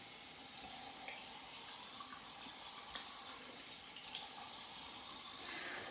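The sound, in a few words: rinsing wedge razor under running tap water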